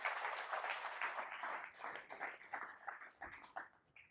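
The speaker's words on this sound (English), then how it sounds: "Round of applause to our tech team" An audience applauds, a dense wash of clapping that starts loud and gradually thins and fades over a few seconds.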